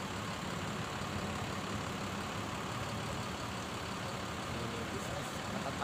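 Morning-departure buses bound for Sumatra idle at the Kampung Rambutan terminal, a steady, even engine rumble filling the background while people talk nearby.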